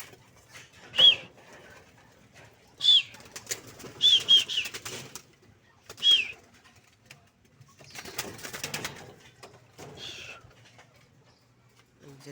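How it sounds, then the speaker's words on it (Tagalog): Pigeons take off on release in several short bursts of loud wing-flapping with brief pauses between them, plus a few faint bird calls and a low background hum. "Ayun mga kalapatids, lumipad na yung apat."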